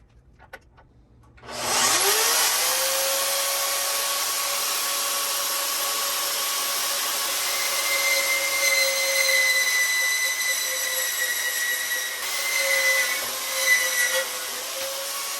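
Harbor Freight Hercules bench-top band saw starting up after a brief quiet moment, then a steady loud whine with a high ringing tone as the blade cuts through material, nearby and uninterrupted.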